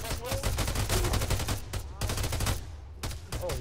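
Dense bursts of gunfire in the Arma 3 video game, rapid overlapping shots and volleys crackling continuously with no pause, loud and close throughout.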